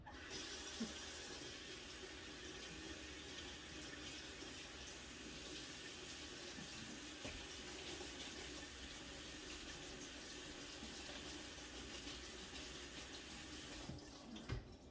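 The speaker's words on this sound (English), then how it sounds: "Let me just rinse this lettuce off." Tap water runs steadily into a kitchen sink while lettuce is rinsed for salad, a constant soft hiss and splatter that stops shortly before the end.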